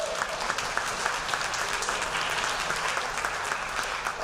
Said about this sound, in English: I want to give them a round of applause for doing such a great job.